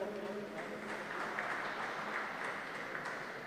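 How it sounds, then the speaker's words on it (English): A crowd at a live handball final applauds the three teams with a steady, dense patter of clapping, while a faint voice is heard briefly at the start. "a big round of applause for all three teams there"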